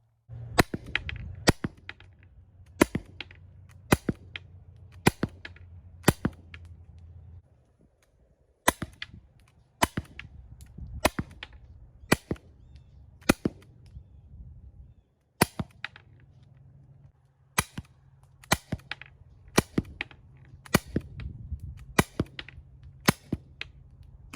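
Crosman CO2 air pistol firing 8.5 gram steel balls, loud sharp cracks in rapid groups of about three shots with short pauses between, close and dry over a faint low hum.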